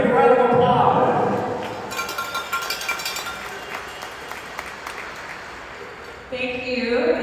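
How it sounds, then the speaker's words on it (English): Audience applause in a hall at a curling association opening ceremony, a broad wash of clapping that swells at the start, thins in the middle and rises again near the end, with a voice speaking over it at the beginning. "Make a big round of applause."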